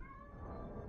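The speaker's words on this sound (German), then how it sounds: "Ich entschuldige mich dafür, dass dieses Kätzchen so sehr miaut." Kitten meowing, one drawn-out, faint cry.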